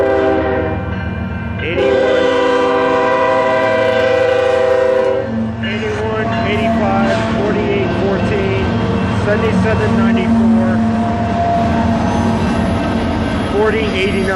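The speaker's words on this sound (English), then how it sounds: "What kind of train is it? Might be Intermodal." An intermodal freight train passing at night in West Sacramento, loud and close, with a long sustained horn blast followed by rumbling wheels and tonal squeals from the cars rolling by.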